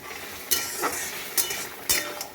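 Tender young jute leaves frying in a pan, a steady soft sizzle broken by three or four sharp scraping stirs of a utensil against the metal, close and fairly quiet.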